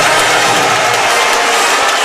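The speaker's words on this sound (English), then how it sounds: "Listen to the crowd." Loud, dense crowd roar and cheering at a FUTNET World Championships triples final, a steady wall of noise filling the whole moment with no clear pauses.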